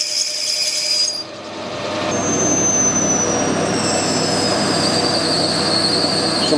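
A 12mm reamer cutting through bronze bushes for a sander roller, a continuous loud metallic whine with high squealing tones, steady throughout after a brief shift near the start.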